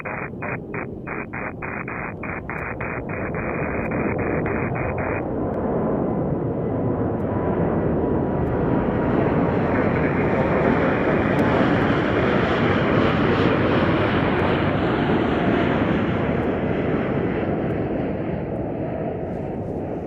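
A jet airliner roars directly overhead at Chicago O'Hare International Airport, swelling from a distant rumble into a loud, broad, sustained engine roar, with a string of brief beeps at the start.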